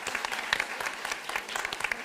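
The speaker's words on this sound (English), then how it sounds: "can we give all of our speakers and our panelist students another round of applause?" Audience applause for speakers and panelist students at a Women in STEM event, steady dense clapping from a roomful of people, moderately loud, with no talking over it.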